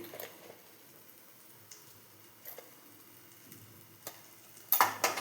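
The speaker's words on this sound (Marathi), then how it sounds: "तेल सुटेपर्यंत चांगलं परतून घ्यायचं" Spice paste with red chilli powder and turmeric frying in oil for an eggplant curry, a soft steady sizzle with faint stirring scrapes and a louder burst of crackle near the end.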